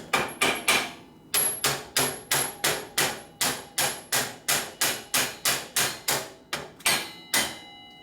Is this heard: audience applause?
no